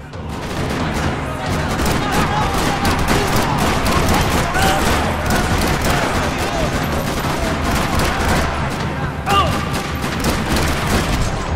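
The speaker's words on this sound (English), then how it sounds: "Another parking lot rattling with gunfire." Sustained automatic gunfire in a parking lot shootout in the video game Max Payne 3, loud and dense for the whole stretch, with rapid overlapping bursts and occasional heavier booms.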